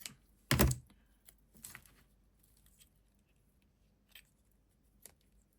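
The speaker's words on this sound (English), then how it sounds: "let's just cut a little bit here and a little bit here" Scissors cutting a paper window envelope: a sharp, close snip at the start, then a few softer scattered snips and paper rustles in a quiet room.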